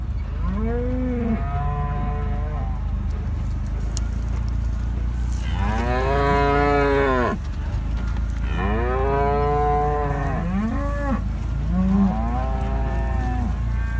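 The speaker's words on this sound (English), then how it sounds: "Herding cattle." A herd of cattle being driven along a road, mooing repeatedly, several long lowing calls overlapping at close to moderate distance, with a steady low rumble underneath and no talking.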